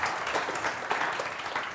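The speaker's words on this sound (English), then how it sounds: "Please give a hand, paluks applause" Conference audience applause after a presentation, a brief, dense burst of many hands clapping at even loudness, with no voices breaking through.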